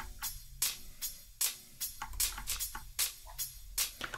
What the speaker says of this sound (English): I have these two hat samples again,